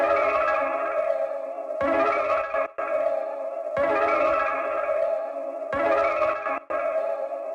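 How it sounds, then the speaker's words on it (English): A music production sample processed with reverb and a Gross Beat plugin chop, playing a sustained tonal chord in rhythmic chunks with abrupt cut-outs and gaps, repeating in a steady looping pattern. "after adding some reverb and then this gross beat plugin right here, to add a little bit of chop"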